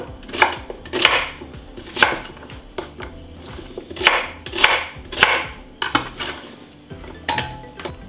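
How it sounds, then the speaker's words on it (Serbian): Onion chopped in a food chopper makes a series of sharp, close clacking chops in an uneven rhythm, about a dozen distinct hits with brief pauses between them. "I zatim ću u secku usitniti luk."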